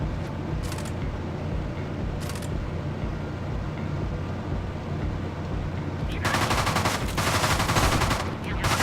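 Rapid bursts of gunfire from the video game Deadbolt, loud and dense, swelling into a heavier volley toward the end over a constant game background hum.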